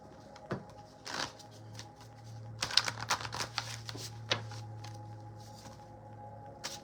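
Tarot cards are shuffled by hand in quick riffling bursts, close and crisp, with short pauses between rapid clattering runs.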